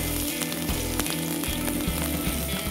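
Onions fry in hot soybean oil for a beef keema, giving a continuous close sizzle with faint crackles and occasional sharper pops throughout.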